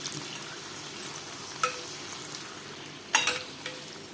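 Sweet diamond cuts frying in hot oil, a steady close sizzle broken by a couple of sharp clinks and scrapes as the pieces are stirred and turned, no talking.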